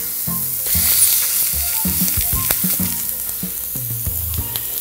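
Eggs and sausage fry on a hot griddle, giving a steady close sizzle with crackles, pops and the scrape of a utensil throughout, and no one talking.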